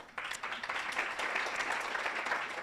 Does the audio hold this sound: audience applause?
yes